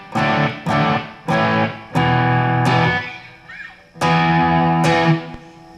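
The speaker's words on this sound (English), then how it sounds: "you can get sort of that standard overdrive, not quite saturated distortion when you go back to the vintage sound" A Blackstar HT Club 40 guitar amp on its vintage channel plays crunchy, not fully saturated overdrive as a guitar strikes a series of ringing chords, some short and choppy, others sustained, loud and close.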